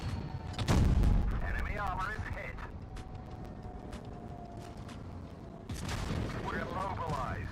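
Chieftain tank in a tank game firing its main gun, a loud heavy boom followed by a long rumbling tail, with engine drone and sharp hits, a second blast later on, and talk over the top.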